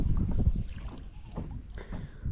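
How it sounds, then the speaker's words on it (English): Wind buffets a fishing boat on a windy winter afternoon out after redfish, a steady low rumble of gusts striking the microphone with a few stronger surges and no talk. "This wind is making it a little tough"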